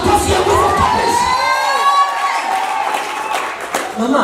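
A church congregation cheers and shouts loudly, with a crowd roar, high whoops and sustained tonal cries filling the whole space, following a call to applaud Jesus at a healing testimony service.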